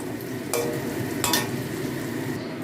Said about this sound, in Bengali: এটা তেলের মধ্যে দিয়ে আমি ভাজতে দিয়ে দেবো